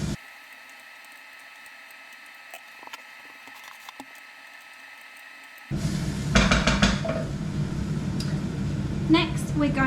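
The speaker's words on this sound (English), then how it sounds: "I'm going to fry it until translucent." Chopped onion hits a hot pan and starts frying, the quiet kitchen giving way to a sudden, fairly loud crackling sizzle with scattered clinks of a utensil.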